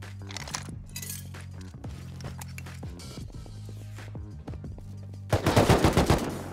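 AK assault rifle fire in the survival game Rust, rapid rattling bursts with sharp metallic clinks, then a louder closer volley of shots near the end.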